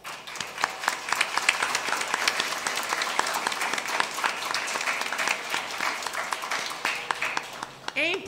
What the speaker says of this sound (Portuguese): peço uma salva de palmas para todos